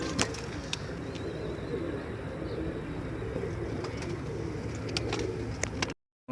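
Pigeons cooing at the Multan pigeon market, soft low coos repeating steadily beneath a busy market murmur, with occasional sharper chirps and clicks nearby.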